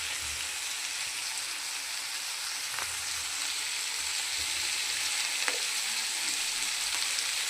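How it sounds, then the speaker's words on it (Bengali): Milk is poured into poppy seed paste frying in a pan, giving a steady close sizzle with a few faint clinks and stirring sounds. "এবার আমি দুধটা দিয়ে দেবো।"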